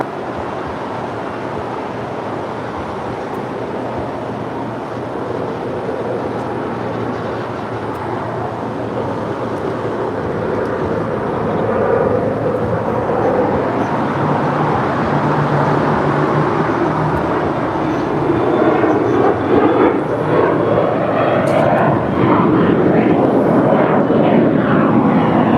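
A heavy airliner lands on runway 25 left at LAX, its deep jet roar swelling steadily louder and closer over the whole stretch.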